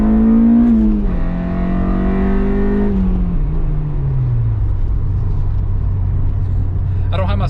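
A car engine revs and pulls away close by, its pitch rising and then falling off into a steady rumble as the car drives off, with no talking over it.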